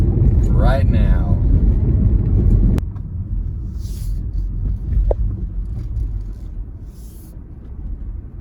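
A car, likely a 1970 Chevrolet Monte Carlo, rumbles loudly up close while pulling up to a powder coating shop, then the engine noise drops and a lower idle and road rumble continue to the end.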